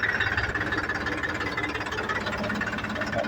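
A tractor engine runs in a farm field, close and steady, with an even throbbing knock that holds without a break.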